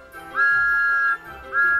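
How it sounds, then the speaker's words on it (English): Thomas the Tank Engine, an animated steam locomotive, sounds his new whistle at a country show: one long, loud, steady tone, a brief break, then a second blast starting, all close and without voices. "Thomas blew his wonderful whistle loud and long."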